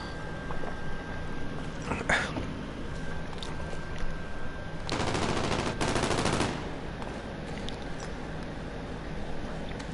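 Gunfire rings out in an online shooter video game, with scattered single shots followed by a sustained burst of rapid automatic fire around the middle, all under a steady game background.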